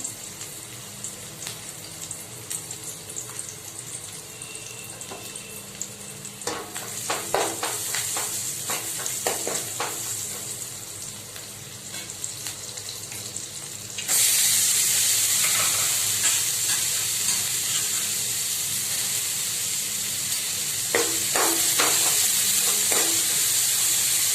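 Egg roll mixture seasoned with turmeric, chili powder and spice mix frying in a pan: a steady sizzle with scattered scraping stirs, jumping louder and brighter about halfway through.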